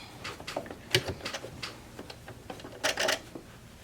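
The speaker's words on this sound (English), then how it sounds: "let's go on the machine and sew now" A sewing machine stitches fabric for a handmade fabric rose, giving close, irregular bursts of mechanical clicking and rattling that start and stop in short runs, with no voices.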